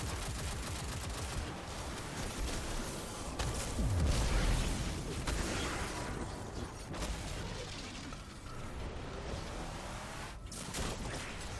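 Gunfire in Destiny 2 during a solo Hunter run of the Starcrossed mission: rapid bursts of weapon shots with mechanical clicks and reload clatter, a heavier blast in the middle, fairly quiet overall.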